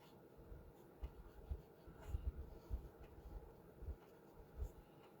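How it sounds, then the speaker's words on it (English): A marker coloring on paper, soft scratchy strokes in irregular short bursts, quiet and close with no talk. "Just coloring in my paper."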